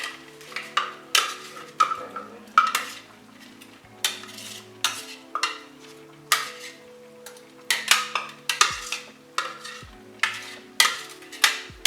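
Ground meat and garlic for enchiladas cook in a pan with a soft sizzle as a utensil scrapes and clinks against the metal in repeated stirring strokes, close up and without talk.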